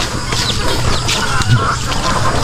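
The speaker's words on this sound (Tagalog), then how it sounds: "away na yung mga manok." Chickens squabbling on a small farm, a steady stream of close clucks and agitated cackles over outdoor background noise, with no talk.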